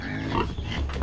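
Pigs on a small farm grunt continuously in a pen, close and steady for about a second, with no talk over them.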